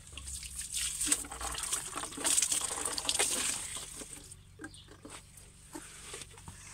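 Water is poured into a homemade garden drip irrigation bottle fitted with a cork, giving a close gurgling, splashing flow that thins into lighter trickles and drips.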